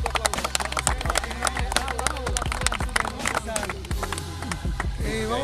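A small indoor group applauds at an intramural hybrid tournament gathering, with a dense run of sharp claps, steady and close, mixed with a little crowd murmur.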